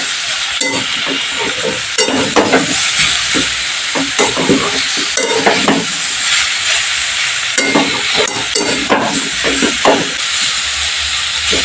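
Vegetables fry in hot spiced oil in a pan for a broccoli dish, with a loud continuous sizzle broken by repeated scraping and stirring strokes close by and no talking.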